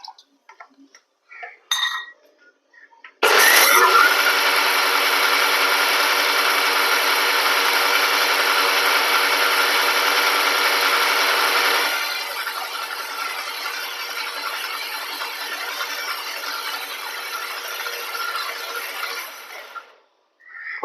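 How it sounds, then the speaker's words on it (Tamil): Kitchen mixer blender whirring through banana, dates, milk and honey, a loud continuous motor roar lasting about sixteen seconds that drops slightly in pitch partway through, after a few brief clicks and handling sounds. "ஒரே ஒரு பல்ஸில் வச்சு நல்லா அடிச்சுக்கோங்க."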